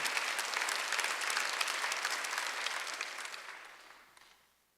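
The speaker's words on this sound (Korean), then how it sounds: "믿는 사람만 박수하세요." Congregation at a Korean church Sunday worship service breaks into sustained applause, a dense wash of clapping that stays steady and then fades out over the last second, with no speech over it.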